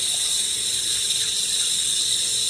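Steady rushing of tap water into a sink while dishes are washed, a constant broadband hiss holding level throughout without pause.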